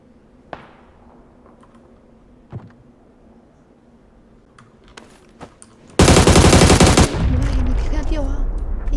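Rapid video game gunfire erupts loud and continuous in the final few seconds, following a quieter stretch with a few isolated sharp pops and low background hum.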